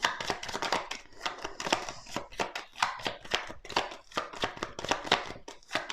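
Oracle cards being shuffled by hand, a quick run of crisp riffling flicks and slaps in uneven bursts, close and clear with no voice over them.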